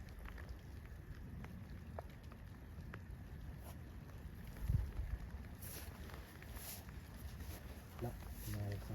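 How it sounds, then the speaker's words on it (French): Rain falling at night in a cemetery, a faint steady patter throughout, with a soft thump midway and quiet voices at the end. "Là, c'est un bruit de pluie"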